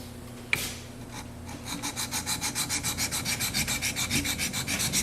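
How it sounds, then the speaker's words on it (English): A steel chisel is sharpened on a diamond stone after coarse sandpaper work. A single sharp knock comes first, then a steady run of rhythmic rasping strokes back and forth, close and clear. "let's move back to the diamond stone, and we'll start erasing the coarser grit scratches that we put in here with the sandpaper"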